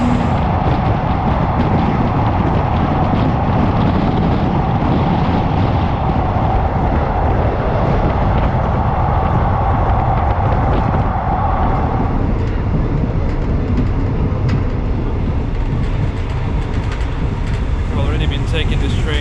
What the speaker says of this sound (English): Our passenger train is now leaving Bangkok Central Station.